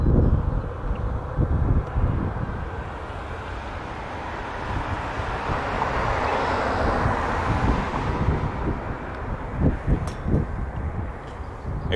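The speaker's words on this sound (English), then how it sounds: "let's see that Dreamliner from Heathrow" Boeing 787 Dreamliner arriving from Heathrow, heard at Toronto Pearson as a broad, steady roar of jet engines blended with wind noise, sustained and fairly loud throughout.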